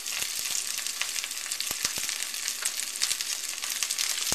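Egg poppers fry in a pan over lowered heat, giving a close, steady crackling sizzle dotted with sharp little pops throughout, with no talking.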